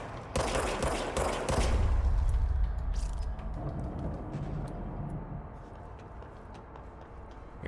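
A gun fires in a video game, with a loud rapid burst of shots up front that gives way to a rumbling decay and a few lighter ticks near the end.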